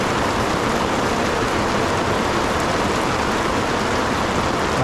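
Heavy rain pours steadily on a mountain campsite on Mt. Prau during a storm with fog, a dense, constant roar of drops close by with no letup.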